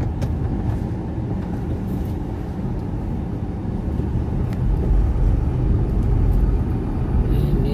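Low, steady rumble of traffic and engines echoing inside a long multi-storey parking garage, a continuous droning wash of vehicle noise with no clear individual passes and no speech.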